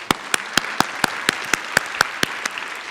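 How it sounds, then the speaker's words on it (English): Short burst of sharp, evenly spaced claps at a PyCon conference talk, about a dozen crisp hits in quick rhythm, close and clear, like a small group or a single person clapping. "Let's give our speaker a round of applause."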